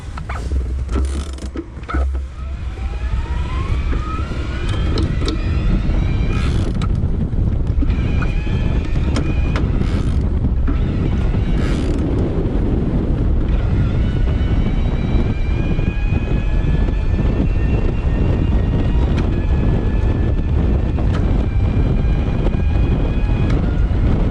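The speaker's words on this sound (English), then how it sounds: "I'm going to pedal along, shift gears, and just wanted to give you a close-up of that motor." Bianchi E-Omnia T Type e-bike drive motor running in turbo mode while pedalling and shifting gears, a steady close-up mechanical whine with rising pitch sweeps, heavy wind rumble throughout and no talk.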